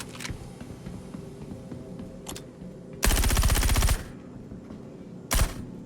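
Gunfire in the space shooter Star Citizen: a sustained automatic burst lasting about a second, then a single sharp shot a couple of seconds later, with faint scattered pops before, loud and close.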